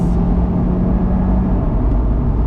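A 15-year-old Honda S2000 pulls hard in second gear, its engine a loud, steady, droning note heard from inside the car with road rumble underneath, with no talking.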